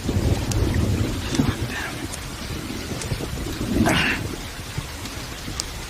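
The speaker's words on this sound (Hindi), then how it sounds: "आज बारिश होगी। और ये तब तक नहीं रुकेगी" Film scene of rain with thunder: steady close rain hiss with low rumbling, and a brief swelling burst near the middle, all without speech.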